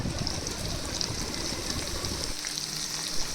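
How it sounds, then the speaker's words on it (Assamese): Green chillies fry in a pan with a constant, even sizzling hiss of hot oil that barely varies throughout. "বইল কৰা কেঁচা জলকীয়াখিনি আকৌ দি দিলোঁ ভাজিবলৈ।"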